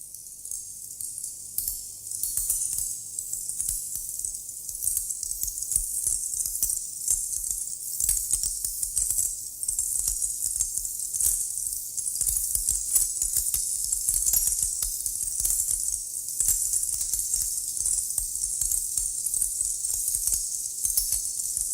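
A fragment of Xenakis's musique concrète piece Concret PH, a dense, continuous crackle of countless tiny bright clicks and sparkling grains, steady in loudness throughout with no voices.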